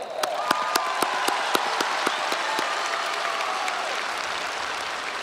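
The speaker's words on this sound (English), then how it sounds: "please join me in recognizing these special guests with a round of applause." A graduation ceremony crowd at Shadow Creek High School applauds special guests, broad sustained clapping with sharp individual claps and faint cheering standing out from the wash.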